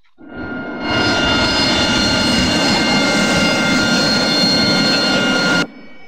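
A jet aircraft taxis down a runway in the DCS World flight simulator game, its engine roar swelling in over the first second, then holding loud and steady before cutting off abruptly near the end.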